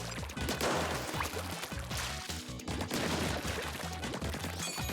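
Rapid game gunfire at a shooting range in Splatoon 3, a dense stream of bursts and impacts with a crashing edge, loud and close, continuing without pause and with no talk over it.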